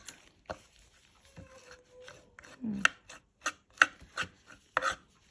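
A knife cuts a grilled pepper in half on a board, giving a series of quiet, close, separate chopping taps and scrapes spaced unevenly, with brief faint voice sounds between them.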